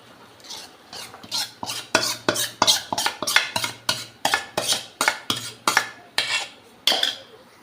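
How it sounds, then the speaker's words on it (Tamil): Cooked moong dal, boiled with turmeric, is mashed and stirred into sambar for sambar vadai, giving a steady run of about twenty close, rhythmic metal-on-pot scraping strokes with no talking. "அதை நல்லா மசிச்சு இதில் விட்டுக்கலாம்."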